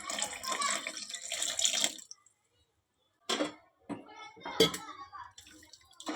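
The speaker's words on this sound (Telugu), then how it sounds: "ఇంకా నీళ్ళు" Water pours into a pot of gongura and dried prawn curry in short splashing bursts with a pause between, close by, with a voice briefly heard.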